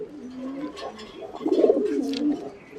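Fancy pigeons coo softly in a loft, a few low rolling coos rising in the middle, close by, with faint bird chatter around.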